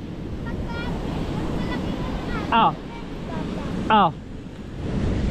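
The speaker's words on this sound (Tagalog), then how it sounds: "kung gaano kalaki ang alon ngayon." Steady roar of ocean surf breaking on a beach, with wind rushing across the microphone and a couple of short bright whistling sounds rising above the wash.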